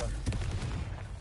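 A Confringo blast spell cast in Hogwarts Legacy lands as a short booming impact with a rumbling tail, loud and close, with a voice overlapping.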